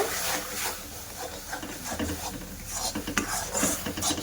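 Rice flour being stirred into boiling salted water in a pot, heard as close, uneven scraping and clinking of a spoon against the pan with soft bubbling underneath.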